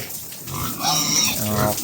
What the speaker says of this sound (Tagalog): Ato mga alaga diri mga baboy. Gigutom na gigutom.